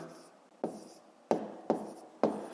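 Pen or marker strokes writing numbers for a long-division problem, four sharp separate taps or strokes at an uneven pace, close and fairly quiet, with no talking.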